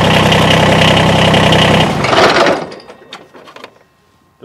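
A Kubota BX compact tractor engine runs loudly at a steady idle close by, then winds down and falls quiet, leaving a few faint clicks and knocks.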